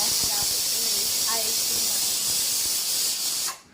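Steady broadband steam hiss from a pressure cooker cooking dal and rice in a home kitchen, loud and continuous for several seconds before cutting off abruptly near the end, with faint clatter in the background.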